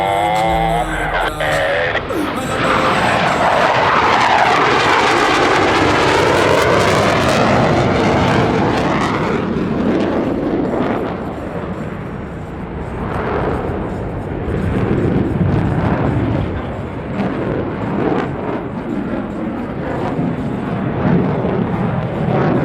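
U.S. Navy Blue Angels jets at the Harrisburg air show fly opposing horizontal rolls, with a loud roaring pass that sweeps overhead early, then a sustained rumbling engine roar that fades and swells as they pull away.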